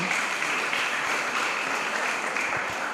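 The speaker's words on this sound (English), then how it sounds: "Give her a round of applause" A crowd at a Hosanna Preparatory School graduation applauds Mrs. Grant with dense, continuous clapping, steady and fairly close throughout.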